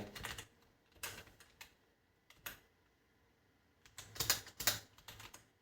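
Someone types Flutter code on a computer keyboard in quiet bursts of crisp, close key clicks, separated by short pauses.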